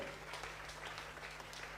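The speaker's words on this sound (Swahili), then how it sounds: "Clap our hand to Jesus. Pigia Yesu makofi." Congregation clapping hands in praise to Jesus at a church service, a dense steady patter of many hands throughout, with a low hum underneath.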